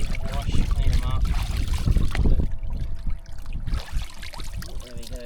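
Water splashes and pours while barramundi fillets are rinsed clean outdoors, a loud continuous wash with sloshing and trickling, partly mixed with low voices nearby.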